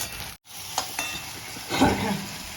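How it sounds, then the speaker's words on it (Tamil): Onions sautéing in sesame oil in a pan for a Tamil brinjal and drumstick stir-fry give a soft, steady sizzle close by, with a few clinks of stirring and a brief louder burst of frying near the end. "வெங்காயம் வதக்கியாச்சு."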